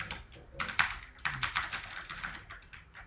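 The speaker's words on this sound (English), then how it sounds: "It's linear with some spring. And you can just hear it bottom out, like super loud bottom out." Linear keyboard switches with some spring click and bottom out sharply, a quick irregular run of close taps and clacks at moderate loudness.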